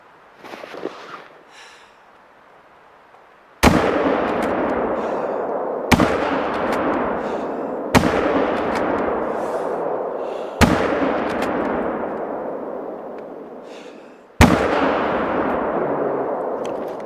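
Rifle shots fired at a bear in the hunting video game theHunter: Call of the Wild: five loud, sharp reports spaced a few seconds apart, each followed by a long echoing decay.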